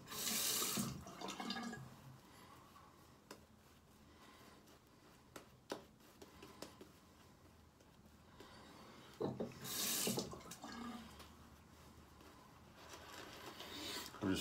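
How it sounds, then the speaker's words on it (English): A sink tap runs water onto a porcelain shaving bowl in two short bursts, at the start and again near the end, with quieter handling and rubbing sounds between them. "I'm just running the water"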